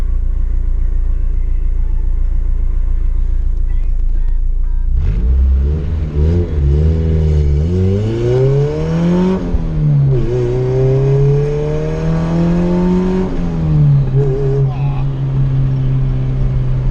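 A Honda car engine with an oil pressure problem sits at a low idle rumble, then is revved hard from about five seconds in. The pitch climbs and falls in several loud, close surges.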